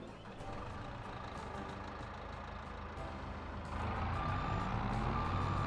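A CLAAS Torion wheel loader in Farming Simulator 22 runs with a steady engine drone. It grows louder partway through, and a few high reversing beeps come in near the end, with no talk.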